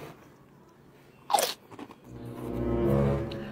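Crunching bites into a crunchy snack topped with matcha sauce, with one sharp crunch burst followed by softer chewing, close and alone without talk.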